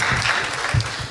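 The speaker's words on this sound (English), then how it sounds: "Round of applause." Audience at a school debate competition applauding, a dense continuous wash of clapping from a crowd, steady and fairly loud throughout the short stretch.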